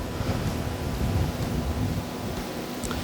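Gusty wind blows outdoors during barbecue prep, a steady broadband rush buffeting the microphone with no talking.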